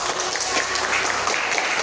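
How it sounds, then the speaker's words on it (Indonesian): Students in a classroom give a short burst of dense, close clapping that stays steady and loud throughout. "Oke, terima kasih untuk anak Ibu. Tepuk tangan."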